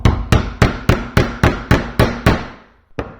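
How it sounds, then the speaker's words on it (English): A hammer strikes a chisel substitute driven into unclamped wood in a workshop: eight sharp, evenly spaced whacks in quick succession, then a short pause and one final lighter blow, loud and close. "give it a couple good whacks"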